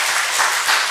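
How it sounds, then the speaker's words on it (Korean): A church congregation applauding to welcome newcomers during a Sunday worship service, a dense wash of clapping heard for a brief moment without voices. "다시 한번 환영의 뜨거운 박수를 부탁드리겠습니다."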